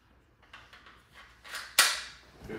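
A single HPA airsoft gun, an X.68, fires one shot, a quiet sharp pop after a few faint clicks, heard alone at low level in a quiet space.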